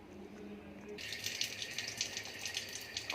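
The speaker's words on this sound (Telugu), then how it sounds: "కొద్దిగా వాటర్ యాడ్ చేసుకున్నాను." Water splashes and gushes into a bowl of mutton trotters being washed, starting abruptly after a moment of quiet and continuing with a close, rattling rush.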